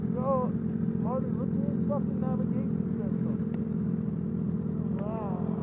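A motorcycle engine drones steadily nearby on a ride around Lawrence, Massachusetts, with a constant mid-range hum through the whole stretch, while voices talk over it.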